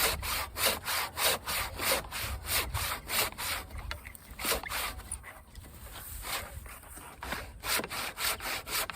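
Manual hand saw cutting through wood, rhythmic back-and-forth rasping strokes at a steady pace, close and fairly loud, with no speech.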